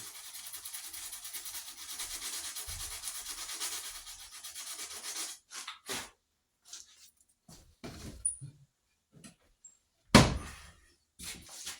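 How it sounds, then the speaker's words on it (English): Sandpaper rubbed by hand along the edges of a cleanly cut piece of wood, a steady close scratchy rasp for about five seconds, then scattered short rubs, light knocks and one louder thump. "I'll take sandpaper to it, round these edges right here"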